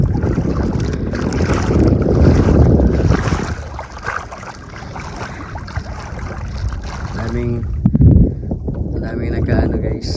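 A motorboat on the water near a coastal oyster-gathering spot, its engine drone blending with wind buffeting the microphone and lapping water, while a person talks over it nearby.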